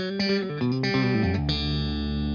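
Distorted electric guitar, a Fender American Professional Stratocaster on coil-split outside pickup coils, plays a short descending run of notes, then lets a final chord ring out with a bright, slightly chorused tone.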